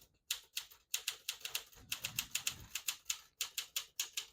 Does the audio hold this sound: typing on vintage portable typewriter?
yes